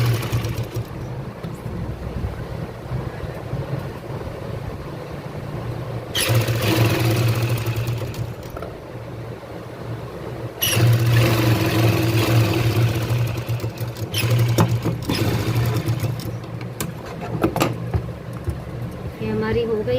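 A sewing machine stitches a kurti in three short motor runs, each a low humming whir that starts and stops between quieter gaps.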